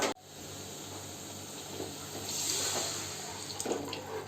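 Water is poured steadily into a pan of shev bhaji curry, a soft continuous gush lasting a few seconds with no talking.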